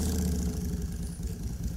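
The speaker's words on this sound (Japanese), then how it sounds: "バイクの音がねかぶってしまいました" Motorcycle engine rumbling loudly and close on a city street during a summer walk, a steady low mid-pitched drone with slight throttle wavering throughout, no voices.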